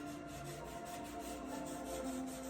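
Wood being hand sanded, a close, steady back-and-forth rasping rub with repeated even strokes and a faint tonal hum underneath, no voices.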